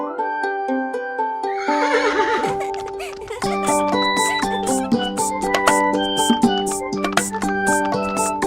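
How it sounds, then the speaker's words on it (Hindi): A horse neighs loudly in a whinnying call at the start of a children's Hindi rhyme about a horse cart ride, then bright tuneful music with a steady beat carries on. "घोड़ा गाड़ी की सवारी होती कितनी ज्यादा"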